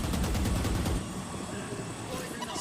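Rapid bursts of gunfire crackle in a Valorant gunfight during a PRX vs. DRX Masters Tokyo playoff match, dense for about a second and then trailing into a fainter tail.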